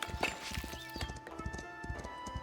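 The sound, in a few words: horse hooves clip-clopping in the video game Foundation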